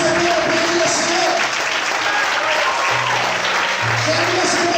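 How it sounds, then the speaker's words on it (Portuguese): Worshippers in a church clap for the Lord in continuous, dense applause, loud and even throughout, with low held tones and faint voices mixed underneath. "Será que você quer aplaudir ao Senhor?"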